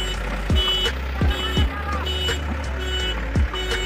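A JCB backhoe loads brick rubble into a tractor trolley at a brick kiln, with a steady diesel rumble broken by several sharp, heavy clunks and thuds of rubble dropping, heard close by.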